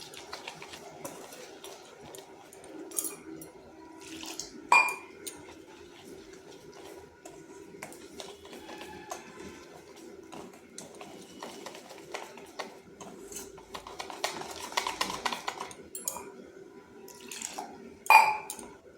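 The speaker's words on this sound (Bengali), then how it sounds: "এরপর অল্প অল্প জল দিয়ে একটা ব্যাটার তৈরি করে নেব।" Batter for cauliflower kalia being mixed with water, heard as soft wet stirring and dripping with occasional sharp clinks of a utensil against a bowl, fairly quiet and close, with a steady low hum behind.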